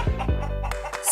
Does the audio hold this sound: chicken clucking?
yes